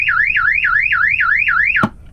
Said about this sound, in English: the loud alarm would go off